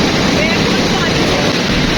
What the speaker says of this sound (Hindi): कितनी प्रेशर से पानी आ रहा है।